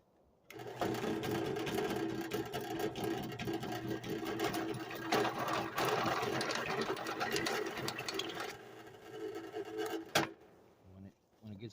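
A drill with a $14 step bit bores into metal for excavator log splitter spacers and bushings, a rattling, buzzing whir that runs steadily for about ten seconds before stopping abruptly, with faint talk at moments.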